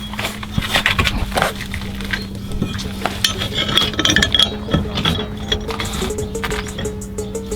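A hand ratchet tightens roll cage bolts in a Ford Fiesta ST180 track build, giving repeated close clicking and metallic rasping strokes over a steady low hum.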